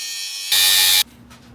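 An angle grinder cutting steel for bolt-on rock sliders on a 3rd Gen 4Runner gives a loud, harsh, sustained whine for about half a second, set between quieter stretches of ambient noise.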